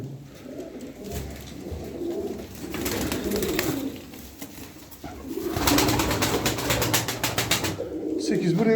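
Pigeons in a loft coo in throaty, repeated bursts, close and fairly loud, with someone speaking at times between the calls.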